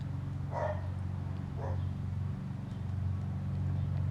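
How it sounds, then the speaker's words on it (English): Dogs bark a couple of times at a distance, short sharp yaps over a steady low engine-like hum. "Sorry for the dogs barking"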